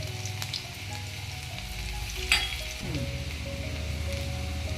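Garlic frying in a pan while cooking a green vegetable dish, with a steady, close sizzle and a single sharp clink partway through. No voices are heard.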